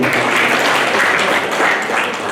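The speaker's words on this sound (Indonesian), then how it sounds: "tepuk tangan buat beliau dulu" Sustained applause from a crowd at a walimatussafar farewell gathering before the hajj, dense and loud clapping filling the whole stretch without pause.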